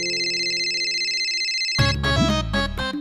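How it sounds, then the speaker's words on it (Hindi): A phone rings: a sustained electronic tone gives way to a bright, jingling melodic ringtone. "अरे फोन बज रहा है"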